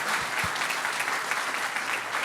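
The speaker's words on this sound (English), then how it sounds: "let's all give Anthea another applause" An audience at a plenary session of a scientific workshop gives a speaker a round of applause, steady and even clapping from a crowd with a couple of low thumps at the start and no talking.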